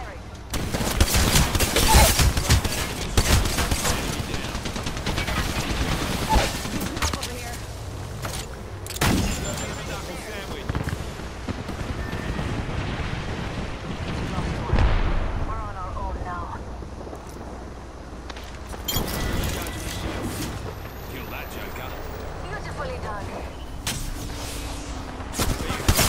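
Gunfire in the Apex Legends video game, dense bursts of rapid shots and impacts that swell and fade over half a minute, under occasional game voice lines and ambient battle noise.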